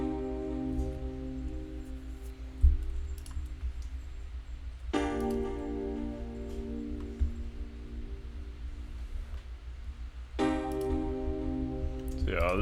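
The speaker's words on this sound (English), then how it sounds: "Sounds like this. It's the E piano." Electric piano playing a sad, slow chord progression in a Detroit-style beat: sustained chords struck at wide intervals, each ringing out and decaying, with a faint ticking in the background and no voices.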